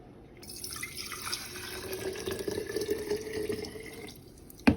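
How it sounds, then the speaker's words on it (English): Liquid pours steadily into a glass container, a splashy trickle whose pitch rises slightly as it fills, ending with a small clink. "Pour your liquid into the jar."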